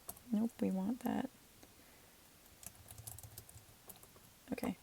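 Computer keyboard typing, with faint, scattered key clicks heard at low level after a short burst of a person talking, then more talk near the end.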